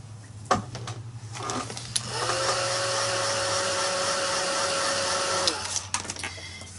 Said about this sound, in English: Now I am going to just hit these real quick with a heat gun.